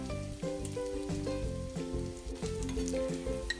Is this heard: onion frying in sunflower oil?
yes